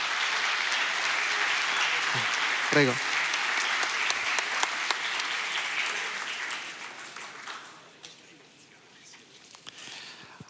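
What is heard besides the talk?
audience applause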